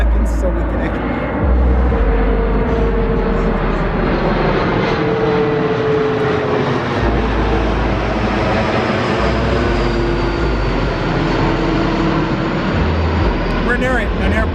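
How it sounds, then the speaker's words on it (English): A fixed-wing airplane passes overhead near an airport above a public park, its engine roar loud and steady throughout as it sweeps across the sky. "We have a plane up ahead, so take a few seconds"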